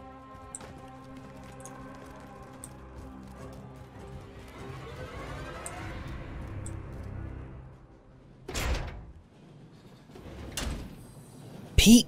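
Door sliding or swinging in a Modern Warfare Team Deathmatch match, a short clunking rush heard twice among a low background drone and soft game sounds.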